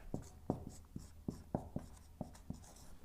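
Marker or chalk strokes on a board, a quick series of short taps and scratches in an irregular rhythm, close and fairly quiet with no talk over them.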